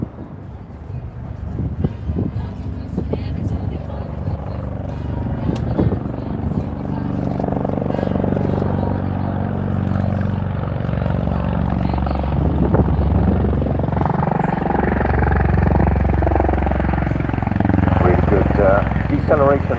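A V-22 Osprey tiltrotor aircraft transitioning to helicopter mode: a loud, continuous rotor drone with a deep, layered pulsing that grows heavier and shifts in pitch partway through, with wind buffeting the microphone.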